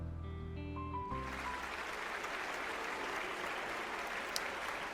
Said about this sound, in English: I'm rewarded with thunderous applause.